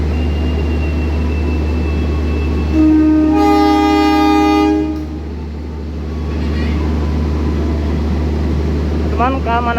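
A local Purwakarta-line train pulls away from a station, with a steady low rumble throughout and a loud horn blast of about two seconds early on. Fainter tonal sounds come later, with no clear speech.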